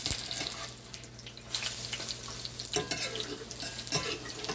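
Ripe banana fritters fry in a cast iron pan with a continuous sizzle, broken by a few scraping flips and clinks of a utensil, with no talking.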